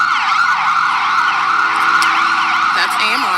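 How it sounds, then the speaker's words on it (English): An emergency vehicle siren wails steadily and loudly, close by, with a continuous rising and falling tone and faint traffic beneath it. "while you're listening to sirens and helicopters"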